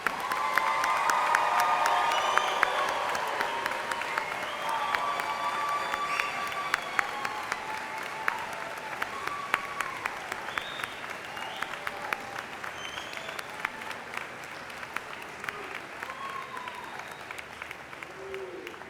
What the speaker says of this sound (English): Can we give our new graduates a round of applause?